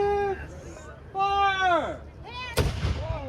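A single cannon shot at a historical reenactment of the Delaware River Christmas crossing, one sharp booming blast near the end that follows a voice talking.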